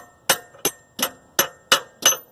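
A chisel driven by a 2.5 pound hammer to knock out the CV axle of a 2015 Chevrolet Malibu gives six loud, sharp metallic strikes, evenly spaced and close, with no talking.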